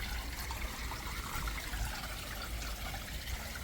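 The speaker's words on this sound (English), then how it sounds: "water level's down at the minute, I'm just topping it back up" Water runs steadily into a koi pond to top up its low level, a continuous even splashing and trickling rush that stays close and unbroken throughout.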